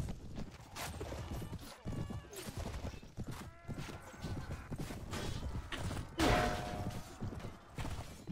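Hooves pound at a gallop in the medieval battle game Mount & Blade: Warband, with creaks and clatter of combat around them and a sharp whinny breaking through near the end.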